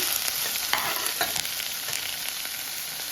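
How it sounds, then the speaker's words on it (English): Vegetables sauté in a pot over low heat, giving a continuous bright frying hiss with occasional faint stirring knocks, close and fairly loud throughout. "And I'm going to saute these vegetables."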